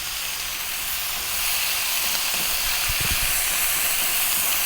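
Ground turmeric, cumin, coriander and chili powder sizzling over high heat in a pan for an eggplant curry, a broad steady hiss that swells slightly after the first second, with a few low knocks of a utensil, no talking.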